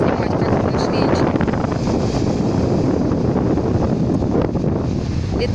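Strong wind blasts steadily across a microphone at a beach, a loud, continuous low roar with constant buffeting that fills the clip from start to finish.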